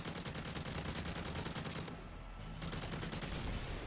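Rapid gunfire rattles almost without pause in Modern Warfare 3 survival mode, dense and loud, with a brief break in the middle before the shooting resumes.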